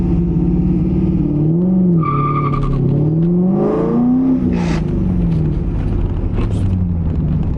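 C5 Corvette driven hard on a lap, engine revving loud and close through gear changes with sharp tire squeals partway through, no talk over it.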